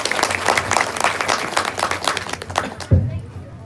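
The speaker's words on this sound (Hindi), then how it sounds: "ताली बजाएंगे सर जी के लिए।" Audience applause fills a hall, dense clapping continuing steadily for about three seconds before a thump and fading, with some crowd noise mixed in.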